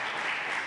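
Brief burst of audience applause for a young girl at a lecture on Martí and Bolívar, a steady wash of clapping held at an even level.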